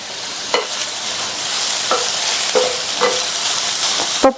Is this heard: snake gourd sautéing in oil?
yes